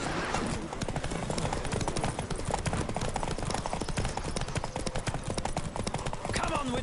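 Galloping horses pound out a fast, dense clip-clop during a horse race in The Witcher 3, loud and continuous with voices shouting over the hoofbeats.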